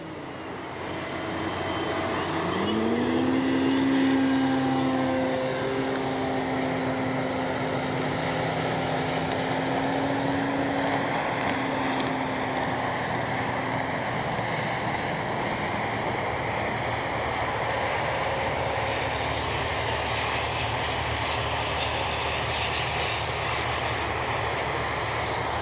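Avios Extra NG RC airplane doing short evening hops over grass: the motor's whine rises quickly and then holds a steady, close drone over constant breezy wind noise, with no talking.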